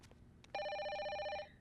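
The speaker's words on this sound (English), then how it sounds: "Alright, let's answer this bloody phone." A telephone in the horror video game Fatal Frame 5 gives one loud, clear electronic ring burst of about a second, alone in a quiet scene.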